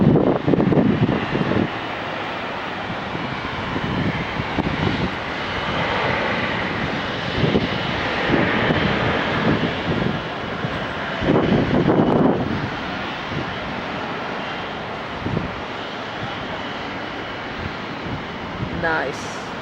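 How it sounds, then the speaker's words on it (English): Boeing 777 jet airliner passing with vapor trailing off it, a broad steady engine roar with wind buffeting the microphone, and people talking loudly and excitedly over it throughout. "Look we got vapor on this 777."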